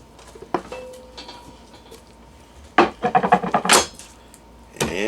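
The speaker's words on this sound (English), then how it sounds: "We'll throw those in the crock pot." Chopped peppers tumble into a crock pot for a steak fajita casserole, giving a burst of clattering, rattling knocks in the middle with a few softer taps and scrapes before and after.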